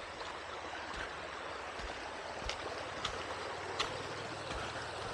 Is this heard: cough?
no